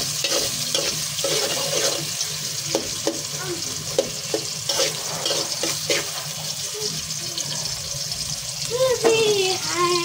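Oil frying and sizzling steadily in a pot as polao is started for a beef-and-polao meal, with stirring and clattering throughout and a brief voice near the end.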